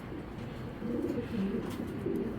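Low, soft cooing of racing pigeons repeats in a gentle rolling rhythm over faint background noise, close by and fairly quiet.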